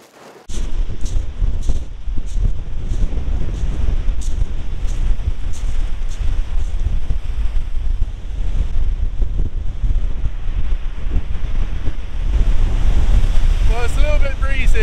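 Ocean waves roll onto a wild, dramatic coast while strong wind buffets the microphone, a loud continuous roar with surging surf throughout.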